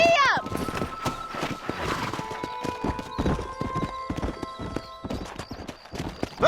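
A horse gallops in the video game Red Dead Redemption, giving rapid rhythmic hoofbeats with a whinny at the start and game music underneath.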